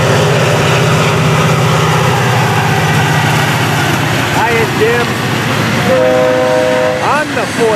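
FEC 920, a local freight hauling rock hopper cars northward, rumbles past close and loud with constant rolling wheel noise. Several horn blasts sound toward the end.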